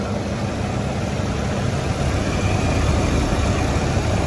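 A car engine idles smoothly and quietly, giving a steady low hum with no ticking or knocking, close by and unchanging for several seconds.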